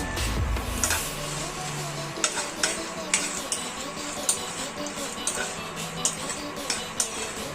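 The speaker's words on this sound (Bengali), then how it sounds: "4-5টি ছোট এলাচ, কয়েকটি লবঙ্গ, কয়েকটি গোলমরিচ দিয়ে আর জয়িত্রী দানা দিয়ে আমি মশলাটাকে গরম করে নেব" Cardamom, cloves, peppercorns and mace dry-roast in a pan, spoon scrapes and ticks sounding in a fairly even rhythm over low hiss, close and moderately quiet.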